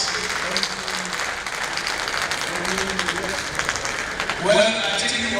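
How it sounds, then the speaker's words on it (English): Audience applause at a medical and health workers union delegate conference, sustained clapping from a large hall that swells near the end, heard under a speaker's voice. "can we once again give a round of applause?"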